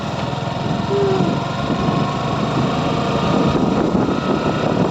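A motorbike engine runs steadily at idle before a father-and-son ride, a loud, even, buzzing drone that holds constant with no talking.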